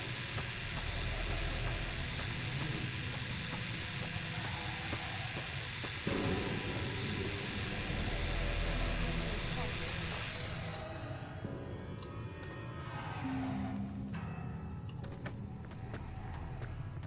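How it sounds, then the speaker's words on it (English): A handheld chainsaw runs in Fallout: New Vegas as a steady, gritty engine drone over dense game ambience, thinning out toward the end, with no speech. "Handheld chainsaw."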